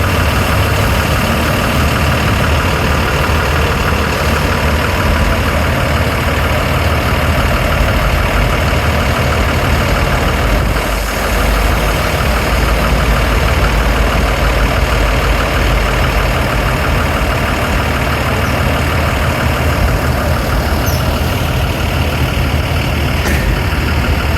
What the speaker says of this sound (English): another one of the buses arriving